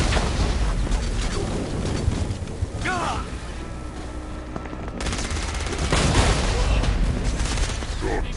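Rapid bursts of gunfire with booms in the video game Saints Row: Gat Out of Hell, loud and dense, mixed with game sounds and a voice.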